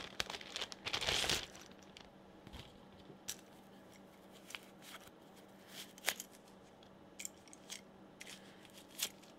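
A SAS cable comes out of its plastic bag, with a loud burst of crinkling plastic at first, followed by sparse soft rustles and small taps in a quiet room.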